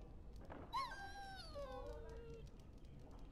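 A dog in the video game Dragon Age Origins lets out a single drawn-out, falling whimpering howl against faint background ambience.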